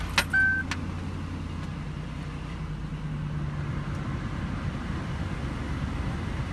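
A 2005 Hummer H2 idles with a steady low engine hum heard from inside the cabin, a brief click and clunk at the start, then an even drone with no one talking.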